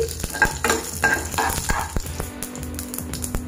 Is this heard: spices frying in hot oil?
yes